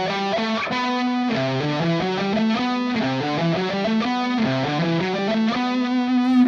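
A distorted electric guitar plays a Lydian mode scale, one note after another in a steady run up and down, loud and saturated with no talking.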